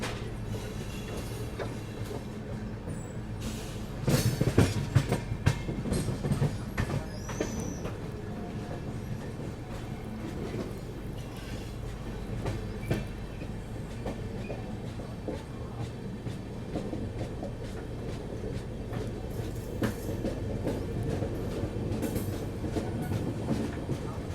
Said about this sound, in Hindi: और यहाँ काशी विश्वनाथ एक्सप्रेस स्पीड बढ़ाते हुए।